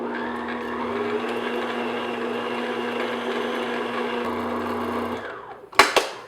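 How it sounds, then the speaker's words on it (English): An electric mixer beats room-temperature butter until smooth, giving a steady close whirring hum that stops near the end and is followed by a few sharp clicks and knocks. "I'm just going to beat that until it's nice and smooth"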